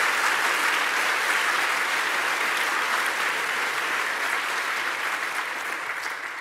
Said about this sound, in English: Can we all get a round of applause for all those amazing sponsors for putting in the money to help make